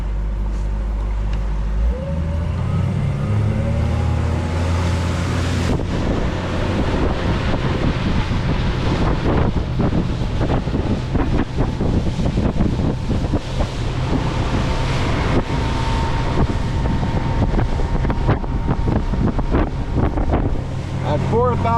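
An Alumacraft FSX 185 Competitor aluminum boat runs under a Honda BF 150 outboard at about 4,000 RPM and 30 mph, giving a steady loud engine drone with wind buffeting and water rush throughout, with occasional talk underneath.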